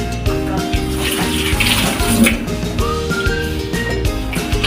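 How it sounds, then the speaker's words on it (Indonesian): Hands are washed with soap under running tap water, a steady, fairly loud gush that lasts throughout, with a tonal background underneath and no speech. "Selalu cuci tangan dengan menggunakan air mengalir dan sabun sebelum kamu makan"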